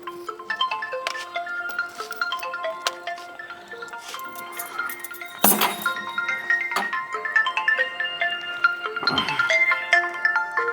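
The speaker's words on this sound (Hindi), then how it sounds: "भाई, ये किसका आ गया फोन?" A phone ringtone plays a bright, repeating melodic electronic tune for about ten seconds in a Haryanvi family household scene, loud and close, with a few sharp knocks and clatters breaking in partway through.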